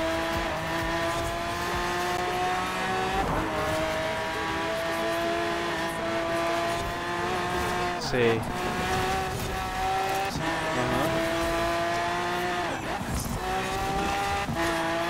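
A steady, droning car engine from a drifting racing video game, with the tires squealing at intervals as the car slides. A brief word is spoken over the continuous engine noise.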